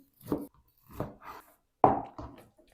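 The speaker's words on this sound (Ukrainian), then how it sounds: "Нарізаю його невеличкими шматочками." A knife chops pork liver into small pieces on a board, four or five separate cuts spaced unevenly, close and quiet with silence between.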